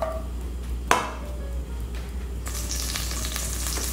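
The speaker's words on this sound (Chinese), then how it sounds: "锅子热了以后，沙拉油两大匙下来， 红葱头50克下来" Fifty grams of shallots drop into two tablespoons of hot salad oil in a heated wok, giving a sharp hit followed by a steady crackling sizzle that grows brighter and denser after a couple of seconds.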